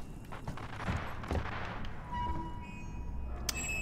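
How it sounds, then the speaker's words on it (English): A loudspeaker in Alien Isolation lets out a rapid, rattling, machine-gun-like blast, a dense stuttering burst over low ambient rumble, fairly faint. "Is someone firing a machine gun, or did that speaker just rip ass?"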